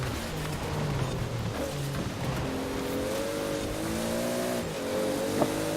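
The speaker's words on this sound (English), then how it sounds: "Damn, I really love the car sound" Toyota Supra RZ in Forza Horizon 4, its engine revving through gear changes with rising and falling pitch, tires squealing, loud and continuous with no talk.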